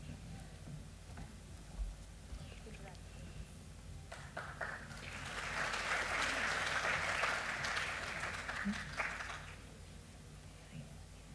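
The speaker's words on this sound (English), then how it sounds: "Big round of applause." Audience applause at a ceremony swells from scattered clapping into a sustained burst of many hands, then fades back, with faint background murmur.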